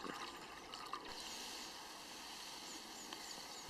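An orange drink from a Lithuanian combat ration is poured into a container, a steady, quiet liquid stream with fizzy hiss and faint splashes, no voices.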